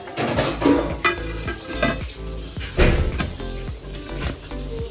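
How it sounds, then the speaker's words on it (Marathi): A ladle scrapes and knocks repeatedly against a metal pot while thick dosa batter is stirred, in loud, rhythmic bursts. "तर हे व्यवस्थित पळीने छान मिक्स करून घ्यायचं।"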